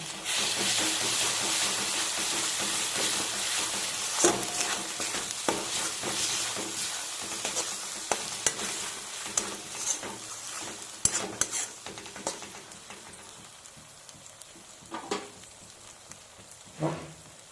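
Ginger and green chili paste frying in a pan, a steady broadband sizzle with repeated sharp scrapes and clinks of a utensil stirring against metal, close and fairly loud, with no talking.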